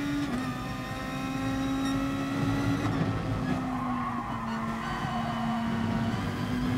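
Race car tyres squeal and skid in a long continuous whine in the GT Sport video game, layered over a steady engine drone with the pitch slowly sliding, close and sustained.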